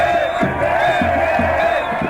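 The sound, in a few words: crowd roaring and shouting slogans in Cairo square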